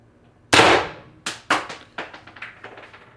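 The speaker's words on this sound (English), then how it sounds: "This should be the 5th shot." A shot from a Pistelle X-68 airgun build during testing: one sharp, loud crack close by, then a few quick clattering knocks that taper off into smaller taps.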